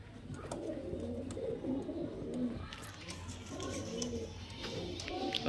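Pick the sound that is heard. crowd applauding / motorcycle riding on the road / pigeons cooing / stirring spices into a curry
pigeons cooing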